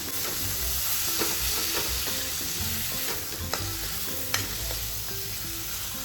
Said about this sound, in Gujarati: ટામેટા ને મિક્સ કરી દઈશું।